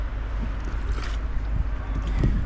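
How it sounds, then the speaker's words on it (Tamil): Steady low rumble of a shikara boat moving across Dal Lake, Kashmir, with wind buffeting the microphone and faint lapping; no speech. "சிக்காரா போட் ரைடு சூப்பராக போயிட்டுருக்கு"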